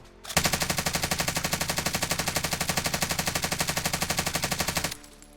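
Stoner light machine gun from Warzone firing one sustained automatic burst of rapid, evenly spaced loud shots for about four and a half seconds, then stopping abruptly.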